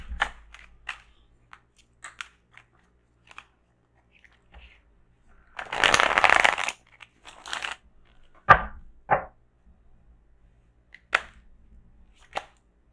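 Tarot cards being shuffled by hand in a quiet room, in scattered soft riffles and taps with one longer burst of shuffling in the middle.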